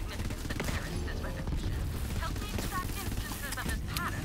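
Quick bursts of rifle fire from a burst-fire rifle in Borderlands 3, clusters of sharp shots popping repeatedly over game noise and a faint voice in the background.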